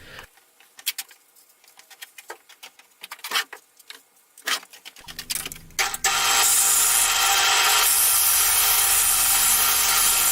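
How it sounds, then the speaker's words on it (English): A drill press spins a wooden cylinder to smooth its surface. Scattered taps and handling knocks come first, then a loud, steady whirring rasp that continues unbroken to the end. "I am going to go to the drill press so that I can smoothen the wooden surface"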